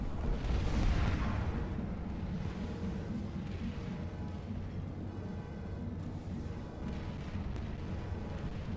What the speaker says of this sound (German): Ich hab's gesprengt.